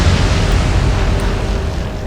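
A naval gunfire explosion in the Atlantic Fleet video game delivers a loud, sustained low boom that rumbles heavily and fades slowly over about two seconds with no voices.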